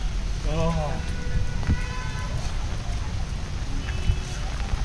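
Steady rain falls continuously across a lush botanical garden in Chikhaldara, a dense broadband hiss with scattered drops, while people talk faintly in the background.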